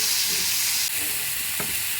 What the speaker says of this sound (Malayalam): കൈവിടാതെ ഇളക്കിക്കൊണ്ടിരിക്കാനായിട്ട് ശ്രദ്ധിക്കുക